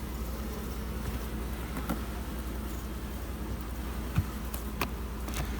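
Honeybees hum steadily around a wooden hive box in an apartment-style hive setup, a continuous low buzz with a few louder individual passes close by.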